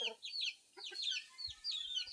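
Several short chicken clucks and chirpy calls, fairly close, with faint low thumps underneath and no talking.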